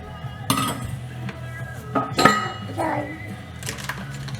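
Dishes and utensils being put into a kitchen sink during home baking of banana muffins: several sharp clinks and clatters of cutlery and crockery at irregular moments over a low background hum, with no talk.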